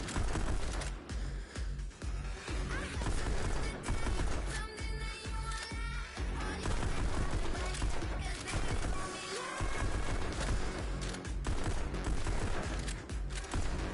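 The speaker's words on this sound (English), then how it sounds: "I could probably shoot while I'm dancing." Rapid bursts of pistol gunfire in the VR rhythm shooter Pistol Whip, crackling steadily over a loud, dense music track and lasting the whole stretch.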